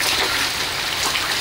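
Steady, dense rain pours down outdoors during a Shaolin martial arts performance, a loud continuous hiss of drops with no voices over it.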